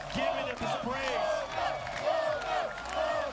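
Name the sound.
crowd cheering a tournament win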